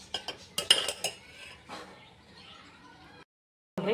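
Boiled banana is moved from a pot onto a plate with a utensil, producing a quick run of close metallic clinks and scrapes that fade into quiet, then a brief rustle at the end.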